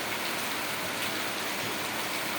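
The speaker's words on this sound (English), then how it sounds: "And this is a good rain." Steady rain falling in Shillong, a dense, even hiss of drops hitting surfaces throughout, close and continuous with no voices.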